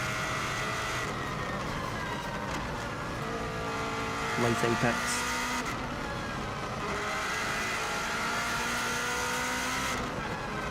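A 2016 Subaru WRX STI runs flat out on the Isle of Man TT course, its engine roaring steadily through gear changes under wind noise while a driver speaks briefly over it.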